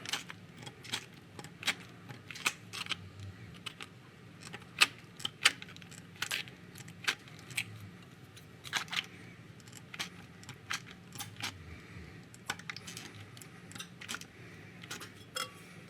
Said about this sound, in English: Hopefully these scissors work okay.